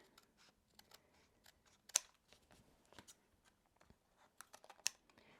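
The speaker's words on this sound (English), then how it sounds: "I'm going to trim these using my Pro Shears here" Pro Shears scissors trim quilting fabric with a string of quiet, crisp snips at uneven intervals, plus a few sharper cuts and soft handling noises.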